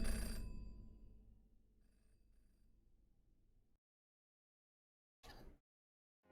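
A telephone rings in a crypt in the video game Jenny LeClue: a loud ring at the start decays into a quiet tail, then silence, followed by a brief, fainter second burst.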